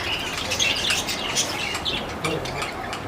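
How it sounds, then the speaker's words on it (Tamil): Lovebirds at a Chennai bird farm chirp and tweet constantly, with bursts of wings flapping nearby, a busy flock close to the listener and no talk. "இது பார்த்தீங்கன்னா all variety of love birds ஃபுல்லாக இங்கே இருக்குது."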